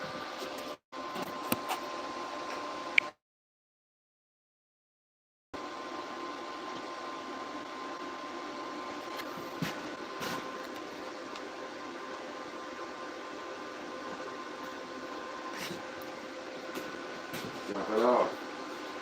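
TIG welder laying a bead on steel, a steady, even electrical buzz and hiss that holds for a long stretch after a brief silent gap, with a few small clicks over it.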